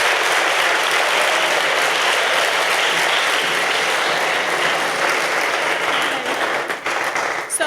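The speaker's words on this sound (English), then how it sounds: "I am asking for another round of applause for him." Sustained audience applause at an educational talk, dense and loud clapping from a crowd filling the whole stretch, easing slightly near the end.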